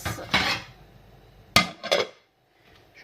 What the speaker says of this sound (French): un couvercle pour laisser gonfler ma semoule